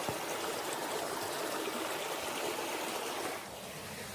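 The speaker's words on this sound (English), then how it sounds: "Just some water running off." Water runs off beside a wooded hiking trail on Paris Mountain, a steady rushing trickle heard close and alone, easing slightly near the end.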